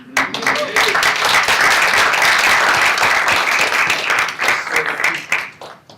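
An audience at a smart-communities tech panel claps for the panelists, a close, loud burst of many hands that holds steady and then thins out near the end.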